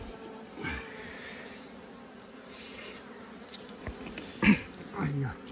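Bees buzz around a wild honey nest dug from the ground on a hillside, a faint continuous drone with occasional closer passes, under sparse rustling and a few louder handling thumps near the end.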